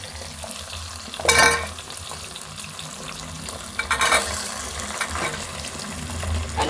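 Vegetables going into softened tomatoes in a pan for vegetable pulao, giving a low sizzle with a couple of louder bursts of stirring and clatter, close and without speech.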